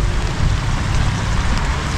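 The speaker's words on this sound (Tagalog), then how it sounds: "Lakas ng ulan" Heavy rain pours down steadily, a loud dense hiss with no pauses, close and filling the whole moment without voices.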